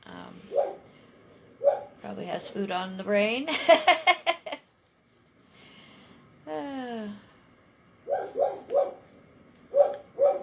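A dog barks in sharp repeated bursts from downstairs, a little distance away, interrupted by a person speaking briefly.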